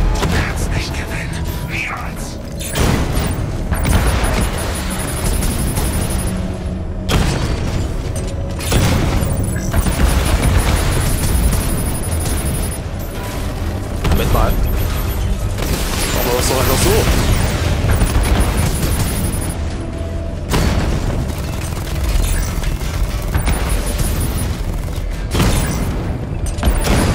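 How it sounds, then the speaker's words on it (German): Explosions, booming blasts and rapid gunfire from the Batman: Arkham Knight video game roar in a loud, dense combat mix with heavy low thuds and bursts, while someone talks over it. "Jetzt kann ich näher ran und den Cloudburst unter Beschuss nehmen."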